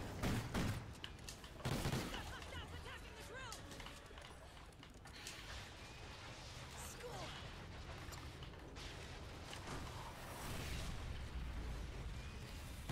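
Propane tanks blow up in a video game: a few muffled, distant booms and bursts rise out of a quiet, low-level background, with softer crackling between them.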